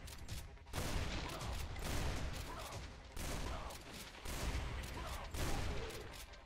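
Constant, loud gunfire and explosions in DOOM on the Lost Civilization map, a dense stream of overlapping shots with repeated heavier bursts across the whole stretch.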